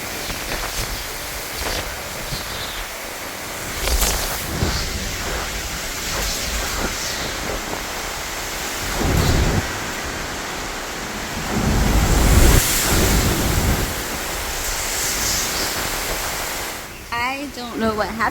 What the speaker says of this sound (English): I'll just stop the voiceover so you can hear the wind and her commentary